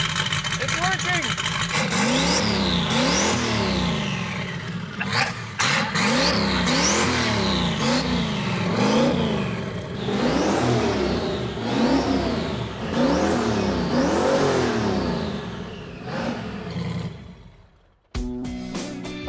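The Rotsun project car's engine fires up and revs repeatedly, close and loud, each rev rising and falling in rhythmic swells before it cuts out near the end.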